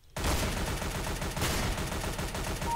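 Shotgun blasts in Counter-Strike: GO start abruptly and carry on as a loud, rapid string of close shots, each report blurring into the next.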